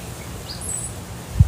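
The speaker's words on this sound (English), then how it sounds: "I'm gonna try to sit quietly for a few minutes to capture the bird sounds and whatever the neighborhood noise is for the day." Birds call outdoors in a quiet residential neighborhood, a few faint, brief high chirps drifting over soft background ambience, with a low bump at the very end.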